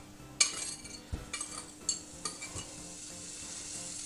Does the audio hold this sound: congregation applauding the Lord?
no